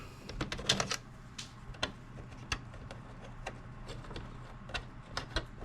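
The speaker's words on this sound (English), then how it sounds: "we'll go ahead and get all these screws up and out of here" Screws being worked loose from a PlayStation 2 console during repair, giving a string of sharp, light clicks and ticks at an irregular pace, close up and fairly quiet over a faint steady hum.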